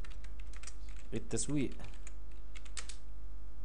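Fingers tap out a short run of keystrokes on a computer keyboard while someone speaks over them, the clicks light and close amid steady talk.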